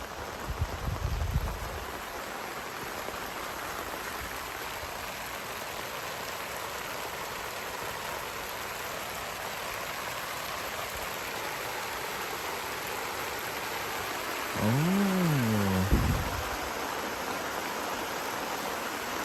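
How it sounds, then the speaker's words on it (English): Heavy rain pours down during a thunderstorm, a dense, even hiss of falling water that holds steady throughout, with a brief low rumble near the start and a short wavering tone and thump near the end. "So it is pouring."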